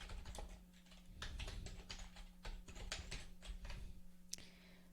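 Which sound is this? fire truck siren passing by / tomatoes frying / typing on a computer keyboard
typing on a computer keyboard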